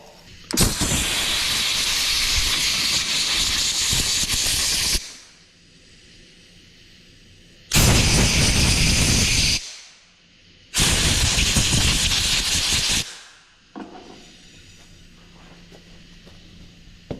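Compressed air blasts out of an air nozzle to clear four-wheeler parts: three long, loud hissing bursts, the first about four seconds and the next two shorter, separated by quiet pauses with faint background noise.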